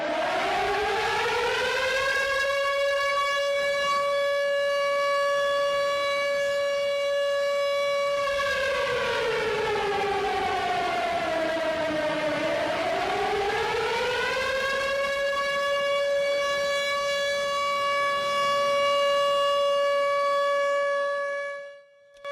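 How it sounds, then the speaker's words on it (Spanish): Air raid sirens wail across a Ukrainian city at war, a loud continuous tone that slides down and back up in one long cycle before cutting off at the end, with no talk. "Estos fueron solo 20 segundos de sirenas, mientras que nosotros lo escuchamos durante horas, días y semanas."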